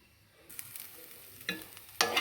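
Hot cumin tempering poured into a coriander-tomato chutney, giving two short, sharp sizzling bursts close by after a quiet stretch of light stirring.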